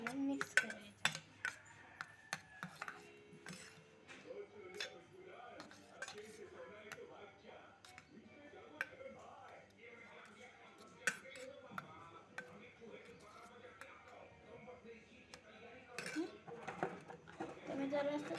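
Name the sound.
mixing chopped onion into omelette egg batter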